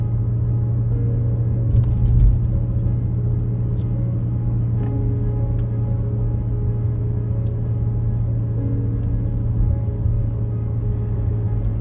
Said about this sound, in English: And many cars.